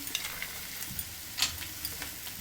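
Peanuts stirred into a frying banana flower filling in a pan, a soft sizzle under quick scraping stirs with a few sharper clicks of the spoon, close and fairly quiet.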